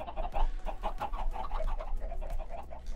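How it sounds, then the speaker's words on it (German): Chickens clucking on a chicken farm in the Minecraft video game, a steady run of short, overlapping clucks and bird calls sounding close and fairly loud, with no talking. "Hier ist die Hühnerfarm?"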